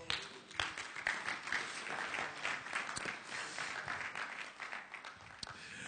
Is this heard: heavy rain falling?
no